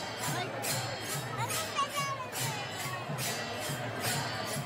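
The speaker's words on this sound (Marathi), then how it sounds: "या ठिकाणी प्रचंड गर्दी आहे." A huge crowd of pilgrims fills the Sant Dnyaneshwar Maharaj palkhi procession at Vadki with a constant babble of voices, plus rhythmic bursts and occasional shouts rising from the throng.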